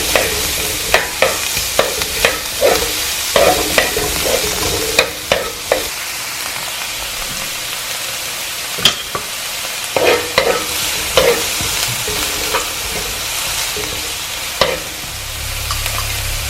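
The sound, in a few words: onions sautéing and being stirred in a pan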